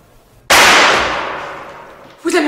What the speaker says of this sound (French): Vous avez entendu? C'était un coup de pétard?